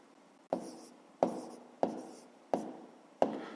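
A pen or pencil writes out a maths solution on paper in five crisp, evenly spaced taps or strokes, each fading quickly, close and quiet with no talk.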